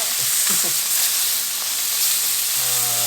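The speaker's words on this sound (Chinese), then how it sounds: "放点油下去。 这个虾一个一个慢慢放上去。" Shrimp seasoned with salt and black pepper sizzle steadily in hot oil in a wok, placed in one by one, with a continuous bright hiss of frying throughout.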